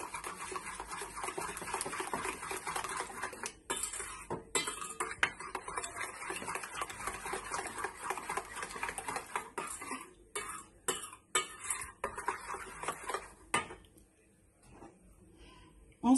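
A spoon or whisk clatters and scrapes steadily in a bowl while mixing galette des rois frangipane ingredients, close and fairly quiet, easing off into near silence before a final knock.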